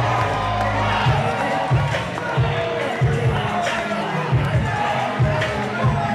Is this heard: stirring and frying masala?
no